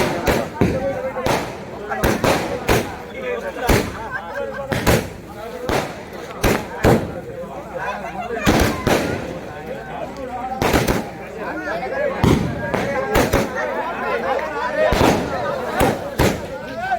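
Firecrackers and fireworks go off at a birthday celebration in Topucharla village, with cake cutting among Congress party workers: sharp irregular bangs, some in quick clusters, over a constant murmur of crowd voices.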